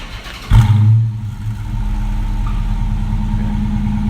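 A car engine with its mufflers removed, started by remote start, fires up with a loud burst, then settles into a deep, rumbling, throaty idle that continues steadily.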